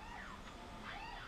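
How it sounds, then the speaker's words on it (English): A distant emergency siren wails up and down in sweeping tones, faint but steady over a quiet background. "It sounds like a siren in the background."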